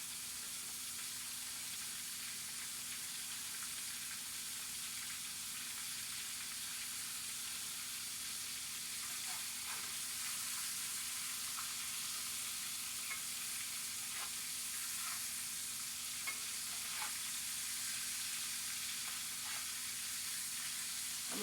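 Breaded beef nuggets deep fry in hot oil with a steady, continuous sizzle and fine crackling that holds evenly throughout, close by and with no voices.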